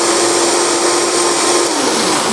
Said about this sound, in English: That's a beautiful blender there, the Vitamix.